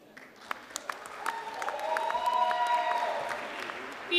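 Applause from the audience at a graduation awards and diploma ceremony, scattered claps at first and then swelling into steady clapping, with a name announced over it.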